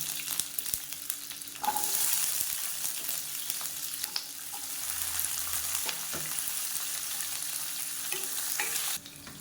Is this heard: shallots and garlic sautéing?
yes